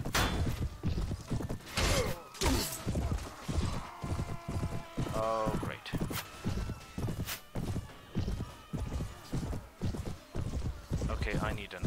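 Mount & Blade battle: rhythmic galloping hooves pound steadily throughout, with a sharp horse neigh in the middle, battle thuds around them, and someone speaking briefly over the action.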